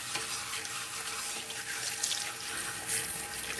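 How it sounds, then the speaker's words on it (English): Water from a salon sink sprayer rinses hair, a steady close hiss of running, splashing water with no talk. "Rinse out any excess product that you might have in the hair before you even use the clarifying shampoo"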